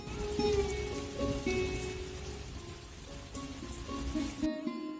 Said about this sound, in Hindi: शाम होते ही रामगढ़ गांव में बहुत ज़्यादा वर्षा होती है।